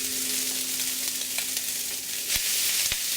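Leftover turkey sizzles steadily in a hot pan, a close, even hiss of frying with a couple of brief clinks as it is stirred.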